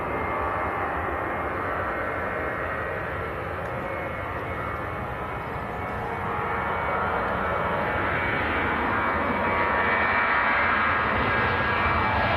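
Ryanair jet airliner departing Manchester Airport for Ibiza, a steady broadband engine roar that holds loud for the whole stretch and swells slightly toward the end, heard from a distance with no voices.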